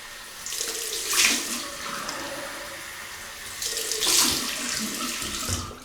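Cold water running from a tap to rinse after a wet shave with a double-edge razor and shave stick, a steady hissing flow swelling twice as hands move under the stream, close and fairly loud with no talking.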